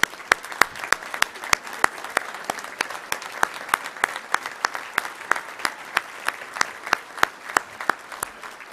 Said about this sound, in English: stand up and let's honor you at this time with a round of applause